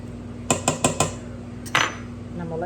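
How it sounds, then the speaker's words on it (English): A knife chops a small onion finely on a board, giving four quick, sharp taps, a short pause, then one more tap, all close and alone with no talk. "And I like to cut it up fine."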